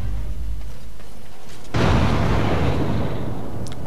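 An abomination explodes in the video game Dragon Age Origins, a loud, sudden blast that bursts out of a low rumbling background and decays into a broad roaring wash.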